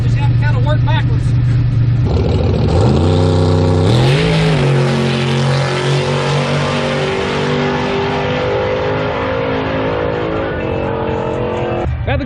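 A turbocharged LS-powered drag car makes a pass down the track at full throttle. The engine note climbs steeply, then holds a loud, sustained roar with fluctuating whine for several seconds.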